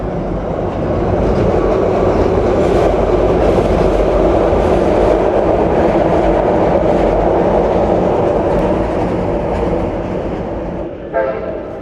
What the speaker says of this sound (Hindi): अच्छा एक और ट्रेन आ गई भाई।